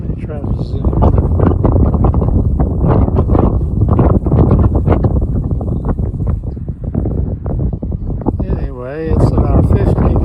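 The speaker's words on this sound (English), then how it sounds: "it's about 50 degrees and windy" Strong wind buffets the microphone in a constant low roar, rumbling without pause from start to finish.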